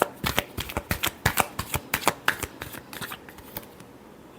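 Tarot cards are shuffled by hand in a quick run of crisp riffling flicks, a dozen or more sharp snaps in close succession that thin out toward the end, close and alone.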